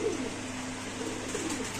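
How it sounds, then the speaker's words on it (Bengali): Racer pigeons coo softly in a few low, rolling calls over a steady background hiss, fairly close, with no voices. "এখানে কিছু কবুতর আছে ভাই গরমে হাঁপাইতাছে"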